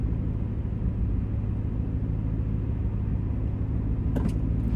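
A 2007 Ford Mustang GT with an SCT tune roars under hard acceleration, a loud, dense low-pitched engine rumble holding steady with a brief high rattle near the end.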